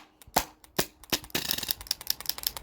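A modified Sabre 68 airsoft gun fires a mag dump: a few spaced sharp cracks, then a rapid rattling burst of snappy shots, moderately loud and close, with no talk.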